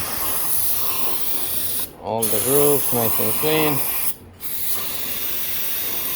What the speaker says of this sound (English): So now we're gonna spray clean it